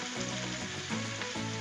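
Bacon and onions frying on a Blackstone griddle, a brief, steady crackling sizzle heard close and soft, with no talking.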